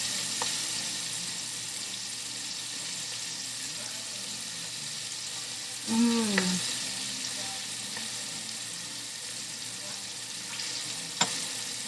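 Battered pepper strips frying in hot oil as Texas toothpicks, a steady soft sizzle throughout with a few brief clinks and scrapes of a utensil.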